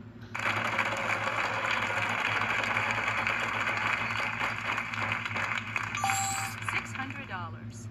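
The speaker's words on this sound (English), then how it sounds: "And I'll spin the wheel" Prize wheel spinning in the Wheel of Fortune 2003 video game: a steady whirring, clicking mechanical rattle that runs continuously for several seconds, then slows into a few separate ticks near the end.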